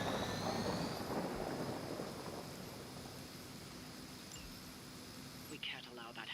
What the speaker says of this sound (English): We can't allow that helicopter to escape.